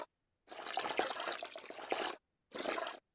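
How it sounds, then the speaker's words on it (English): Water-based whoosh sound effect built in Krotos Studio: a rushing, splashy liquid surge lasting over a second, then a shorter second burst after a brief gap, fairly quiet and with no voices. "There we go, that's a watery one."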